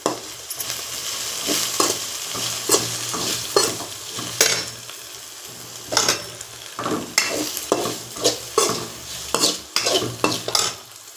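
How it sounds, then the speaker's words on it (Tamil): Okra fry with chili powder stirred in a pan: repeated scraping strokes of a spoon against metal over a continuous crisp sizzle, close, loud and irregular with no talking. "நல்லா இப்போ கிளறி விட்டுக்கலாம்"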